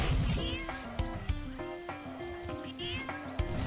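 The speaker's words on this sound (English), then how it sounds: "the music in this sounds like it's got a cat meow in it" Spyro Reignited Trilogy game music with a melodic, meow-like wavering tone repeating over a rhythmic backing, played at moderate volume with no voices.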